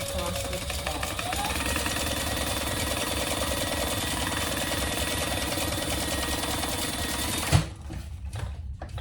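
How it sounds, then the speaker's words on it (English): A sewing machine stitches across the top of a slip pocket for a unisex crossbody bag, running in a steady, close, rattling hum and then stopping abruptly near the end, after which a few faint handling sounds follow. "we're going to fold those right sides together and sew across the top"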